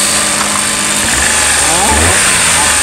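A Multicab mini utility truck, unit d64V, with its engine running after being started following a no-start fault, giving a loud steady mechanical drone with a low rumble swelling slightly partway through.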